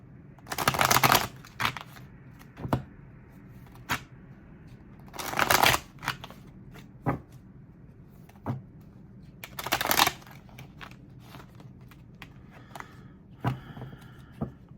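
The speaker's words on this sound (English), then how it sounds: "Let's shuffle." Tarot cards from a Tarot of the Abyss deck shuffled by hand in repeated bursts, a few loud riffling runs separated by quieter single card snaps and pauses, close up with no talking.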